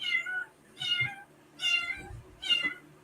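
A small kitten meows four times in a loud, insistent, evenly spaced series, each cry clear and close in a quiet room.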